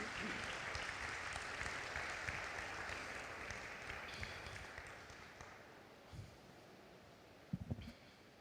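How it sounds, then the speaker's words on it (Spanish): A church congregation claps in a thick, continuous ovation that gradually thins and fades, leaving a few scattered claps and murmurs near the end. "Dale un aplauso a Cristo."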